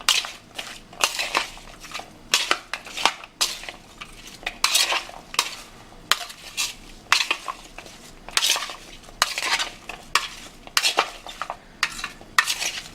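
Walnut salad with lemon being mixed in a bowl, a close run of rhythmic crunching and scraping strokes with utensils clinking against the dish, no talk.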